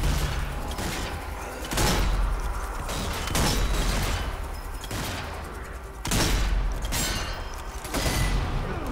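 Repeated volleys of gunfire in the zombie shooter video game Zombie Army 4, loud bursts of shots with booms and mechanical clatter over a continuous game soundscape.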